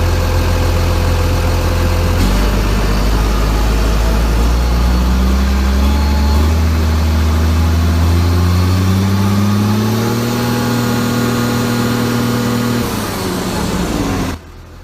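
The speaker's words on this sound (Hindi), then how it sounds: "आइए इंजन साउंड सुनते हैं।" A motor grader's heavy diesel engine runs steadily up close, its low rumble rising in pitch as it revs, then settling before cutting off near the end.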